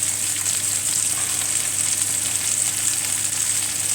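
Lamb chops sizzle on a grill in a dense, steady hiss of frying fat, loud and close, with no voices.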